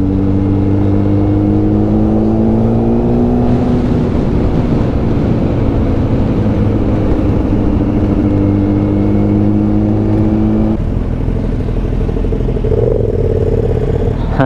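KTM Super Duke 990 motorcycles, three riding together on a coast road, one running hot, give a steady loud engine drone with shifting tones as the riders change pace, with no talk.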